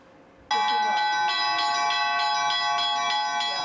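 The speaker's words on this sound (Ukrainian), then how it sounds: "можливість бити в церковні дзвони всім охочим" A large church bell in a monastery bell tower strikes suddenly and loudly, then rings on with a rich sustained hum and repeated rhythmic strokes, close and dominant.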